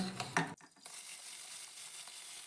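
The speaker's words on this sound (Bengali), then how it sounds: "তারপরেই দেখো সেই তেলেই আমি দিয়ে দিচ্ছি পেঁয়াজ আর লঙ্কা বাটা" Onion and green chili paste hits hot oil with a sharp stir, then settles into a continuous close, bright sizzle of frying.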